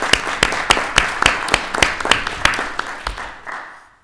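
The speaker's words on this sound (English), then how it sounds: "So let's have a round of applause to Mr. Parker." A small group at a city council meeting claps for an honoree in a quick, evenly spaced rhythm of sharp claps that thins out and fades near the end.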